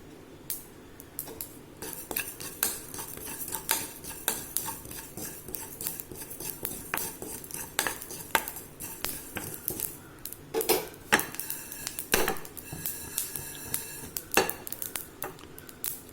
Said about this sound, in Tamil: ஜீரகமும் நமக்கு பொரியிற சத்தம் கேட்குது